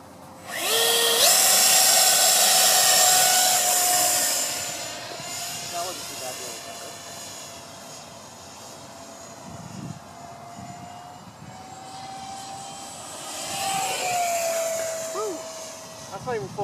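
A BlitzRC Viper Jet RC plane with a 50mm 4S ten-blade electric ducted fan screams loudly past, its whine rising and falling as it flies by and returns, with a voice speaking over it.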